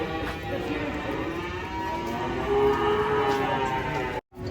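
A cow being unloaded from a truck moos loudly and at length, a drawn-out bellow with a rich harmonic tone, close by, before cutting off abruptly near the end.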